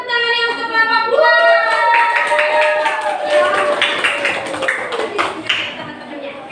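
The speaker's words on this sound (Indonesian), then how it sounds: "Mana tepuk tangannya untuk kelompok 2?" Schoolchildren in a third-grade classroom clap for a presenting group, with the claps dense and overlapping under excited children's voices and chatter that run through the whole stretch.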